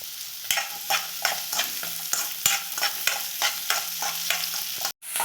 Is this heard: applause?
no